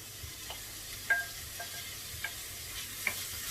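Softened onions and chopped tomatoes frying in a pan, a quiet steady sizzle broken by occasional soft stirring taps and clicks, no talking.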